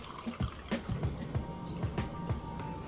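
Water poured over cornmeal in a pot for Jamaican porridge, a close gurgling, sloshing pour with bubbly low glugs repeating in quick bursts.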